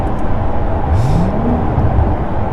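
A Porsche 981 Boxster GTS is revved in neutral while rolling, its engine note climbing and falling over a loud, constant road and cabin rumble.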